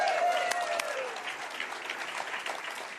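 Applause from a convention crowd in Spokane at a Washington State Democratic Party gathering, a steady wash of clapping that holds for the full stretch, with a voice briefly audible over it at the start.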